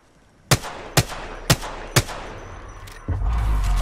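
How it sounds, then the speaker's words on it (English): Four sharp, evenly spaced gunshots from enemy fire in Apex Legends ring out about half a second apart, followed by a louder rumbling burst of noise near the end. "The enemies are shooting at me."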